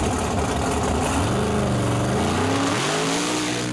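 A loud mud truck engine roars and revs hard as it launches off the line at an outlaw pro-stock mud drag race, pitch climbing steadily through the gears, with crowd noise underneath.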